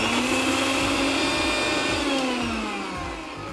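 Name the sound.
mixer grinding garlic, ginger and masala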